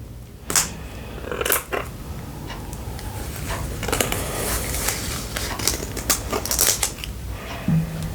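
Scissors cut into the packaging of a tarot deck in a series of close, crisp snips and crackles of plastic or card, with irregular clicks and rustles and no voices.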